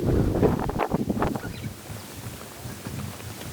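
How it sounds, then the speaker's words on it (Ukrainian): Strong wind buffets the microphone with loud low rumbling gusts, strongest at the start and then easing to a steady roar. "Сильний вітер."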